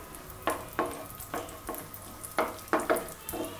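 Cashew nuts frying in ghee in a pan, a soft steady sizzle broken by a string of sharp clinks and scrapes from stirring, close up with no voices.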